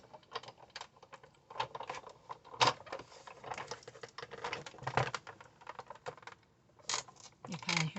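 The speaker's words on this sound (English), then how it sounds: "You kind of hear that little crack. That means that it has cut through that paper." A die-cutting machine presses through paper with a cutting plate, giving a quiet run of small crackling, clicking snaps that come in scattered bursts with no voices.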